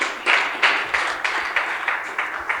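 Audience applause at a tech community mixer in Calabar, a short run of bright clapping bursts rising and falling in waves, fairly close and with no talking over it.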